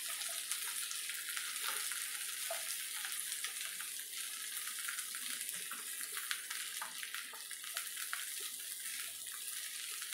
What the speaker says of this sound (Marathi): सगळं व्यवस्थित परतून घेऊ आपण.